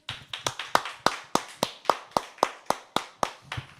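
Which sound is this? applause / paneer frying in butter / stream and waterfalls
applause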